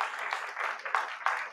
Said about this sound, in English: yes, clap it up.